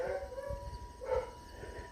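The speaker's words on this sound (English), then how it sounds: "They got the dogs across the street barking." Dogs barking across the street near a community garden, somewhat distant: a few short barks and a drawn-out howl-like yelp over faint outdoor background noise.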